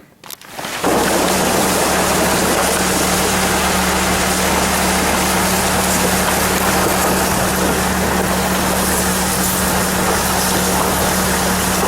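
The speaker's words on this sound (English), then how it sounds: "right now we are headed down with the tractor in the sled" Tractor engine droning loud and steady at close range while pulling a sled carrying a seated rider out to recover a deer, starting abruptly and running continuously with no voices.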